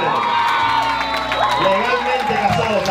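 Wedding guests applaud and cheer loudly for the newlyweds right after the couple is pronounced husband and wife, a dense crowd roar with whoops and scattered claps filling the whole moment.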